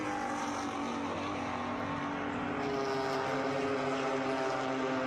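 Steady, droning engine roar of GT4 race cars, a BMW among them, running on a Canadian circuit, with layered engine tones sustained at a distance and no pauses.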